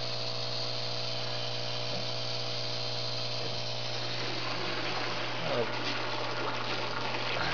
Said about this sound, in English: you can see the water flowing down there. There's some air from the agitation of the water draining.